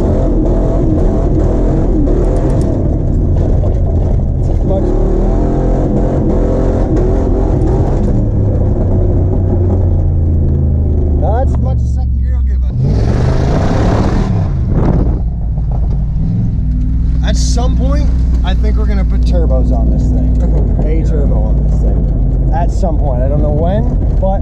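Car engine revving hard while drifting with counter steer, a loud, continuous roar with rising and falling pitch and a brief harsher burst midway, heard throughout with tire and wind noise.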